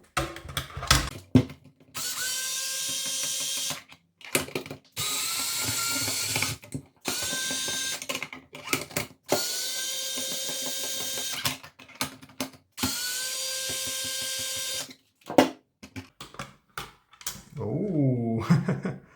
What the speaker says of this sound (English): to start seeing all the parts we need to remove 4 screws at the